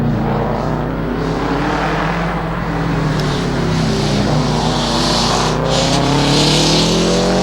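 A Subaru Impreza GD WRX on a hillclimb run gives a loud, continuous engine note whose pitch climbs and falls as it works through the gears, close and alone without talk.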